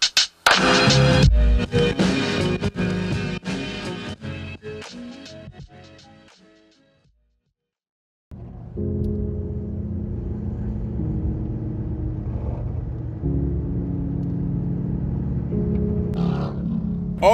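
A Harley-Davidson motorcycle engine turns over after a pause and settles into a steady, deep idle that rumbles on without a break, with clatter and noise earlier and no speech over the running engine.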